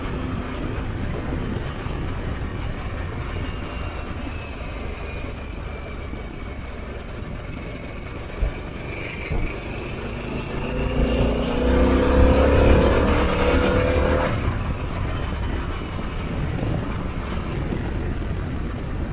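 A 2021 Harley-Davidson Pan America motorcycle ridden hard on a Texas road, engine drone under heavy wind rush, rising to a louder surge of revs midway before settling back.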